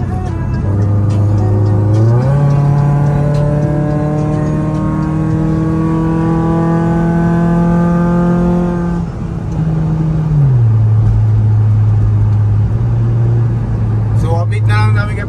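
A Honda FB Civic fitted with a K24 2.4-litre engine runs loudly and steadily, its engine note held at one pitch, then rising and falling back to a lower idle, with people talking nearby.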